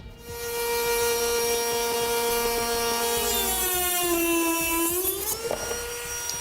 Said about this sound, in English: Now, I'm going to be using a rotary tool.